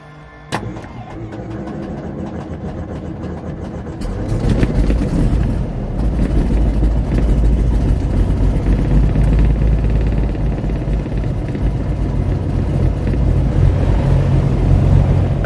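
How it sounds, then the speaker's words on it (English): A Beechcraft Bonanza piston aircraft engine cranks with a sharp click, catches after a few seconds, then settles into a loud, steady low idle for warm-up. "I just set 700 RPM just to warm things up."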